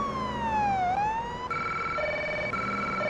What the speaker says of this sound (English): You gonna stop there, semi-truck, for the lights and sirens?